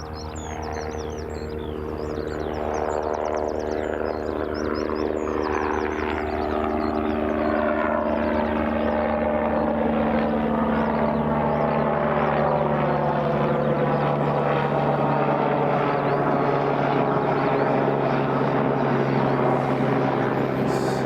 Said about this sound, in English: A nice little helicopter